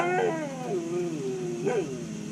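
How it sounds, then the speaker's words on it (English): A neighbor's dog howls and whimpers nearby in long, wavering, rising and falling cries, with a brief yip toward the end, heard alone with no talk. "Hey, cut it out, neighbor dog."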